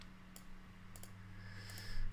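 A few sharp, isolated mouse clicks, roughly three separate taps spaced apart, sounding close but quiet over a steady electrical hum.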